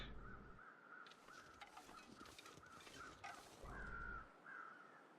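Crows caw in The Long Dark video game, a few harsh calls sounding out from a distance over a steady wind-like ambient bed.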